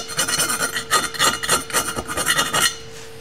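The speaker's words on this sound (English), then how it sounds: "I'll take a half round file and just do a quickie deburr on these." Half round file deburring the cylinder edges on a 1973 Honda CB750, about eight rhythmic raspy strokes scraping metal up close, loud and alone before fading out.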